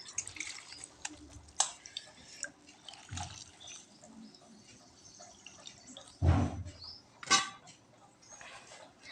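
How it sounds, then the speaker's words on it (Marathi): Cotton saree falls are washed by hand in salted water, with irregular drips, soft sloshes and a few louder splashes at close range, spread unevenly over several seconds. "तर हे सगळे फॉल मी धुवून घेणार आहे"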